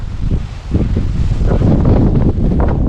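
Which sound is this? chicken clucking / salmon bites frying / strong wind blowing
strong wind blowing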